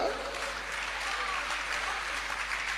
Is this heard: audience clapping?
yes